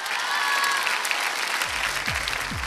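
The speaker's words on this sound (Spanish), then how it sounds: "Para ellos, por favor, un aplauso." An audience applauds rescue workers and firefighters in Mexico City, a dense, loud wash of clapping that holds steady throughout, while a voice calls out briefly toward the end.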